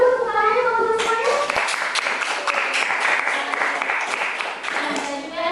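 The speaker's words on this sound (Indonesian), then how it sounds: "Boleh tepuk tangannya teman-teman semuanya?" An audience of students at a campus gathering breaks into dense, sustained applause right after a spoken line, steady close clapping lasting several seconds that tails off at the end.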